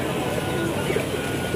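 Pigeons coo at a busy Sunday pigeon market in Tongi, where breeds such as Giribaz and Sirazi are sold; soft, repeated coos sit inside a constant crowd murmur with voices in the background.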